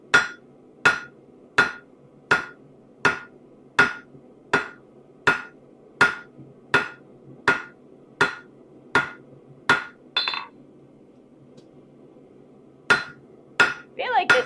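Hand hammering on a hand-made metal rivet for a trivet, a run of about sixteen sharp, evenly spaced close strikes, a short pause, then a few more blows.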